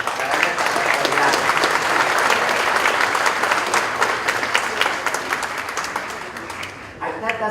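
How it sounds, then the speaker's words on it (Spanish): Dense applause from a large crowd fills the room, steady and loud, fading slightly at the end as a voice begins. "el doctor Carlos Ramírez creo que se merece nuestro agradecimiento y el aplauso para nuestra autoridad"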